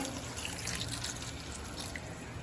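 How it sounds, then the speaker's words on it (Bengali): Water poured into a pan of fish curry with fried masala and potatoes, a continuous close splashing trickle that runs steadily without pause and with no voices. "এবার জল দিয়ে দেব পরিমাণ মতো"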